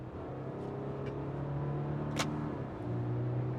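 A 2024 Subaru Crosstrek with a CVT drones steadily while driving, and its engine note steps down in pitch as it fake-shifts, with a brief faint click partway through.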